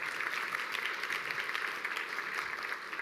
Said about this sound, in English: Yes, you can clap. Clapping is allowed.